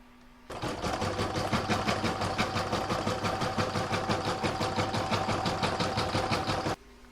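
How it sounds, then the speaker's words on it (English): An embroidery machine stitches an in-the-hoop floral topper design, starting abruptly into a fast, steady, rhythmic needle clatter that runs loud and uninterrupted for about six seconds before stopping. "I'm now going to pop that in my machine and stitch round number 2."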